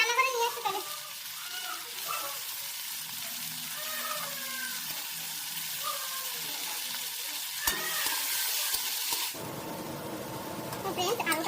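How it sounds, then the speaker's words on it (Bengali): Potatoes frying in oil in a pan, a soft continuous sizzle with occasional stirring and scraping, heard close and under a person talking for most of the clip. "এখন এই একই তেলের মধ্যে আলুগুলো ভেজে নেব"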